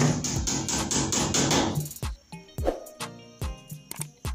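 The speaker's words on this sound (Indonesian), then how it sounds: "Sekarang posisinya lagi pasang paku ya, untuk mengikat paralon sebelum dilepo" Nails being hammered into a wall to fix PVC conduit pipe while installing an electrical switch box, a run of sharp, close, irregularly spaced metallic strikes after a brief stretch of busier noise.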